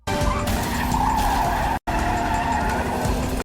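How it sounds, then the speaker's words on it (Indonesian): Car skidding and crashing into a convoy of vehicles: a loud, continuous tire screech with engine roar, briefly cut off, then resuming at full volume. "mobil pasukan Raw tiba-tiba menabrak iring-iringan mobil ISI tersebut"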